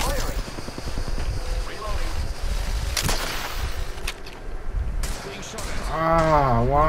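Gunfire in Apex Legends, a few sharp shots and bursts mixed with wind and game noise, while voices talk over it.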